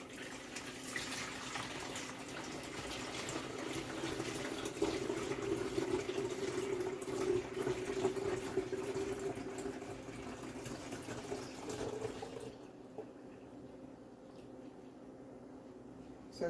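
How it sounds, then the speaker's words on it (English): Beetroot and carrot juice being strained for a third time, a steady liquid trickle and pour running close and continuous before dropping to a quieter hiss near the end. "let's strain it a third time, because we just want to get all the trash out"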